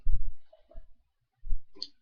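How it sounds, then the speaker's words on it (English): Scissors cut along the seam of a pair of jeans in three short separate bursts of snipping and crunching through thick denim, close and clear with quiet gaps between and no talk. "I cut all the way up to right below the zipper"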